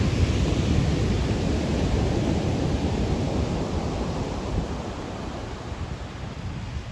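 Stormy sea waves roll and crash near the shore in Sochi, a continuous heavy low roar mixed with buffeting wind noise, with no voices.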